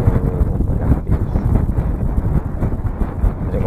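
Strong wind at sea buffets the microphone in a constant rough roar while fishing for catfish from a small boat, with no voices heard.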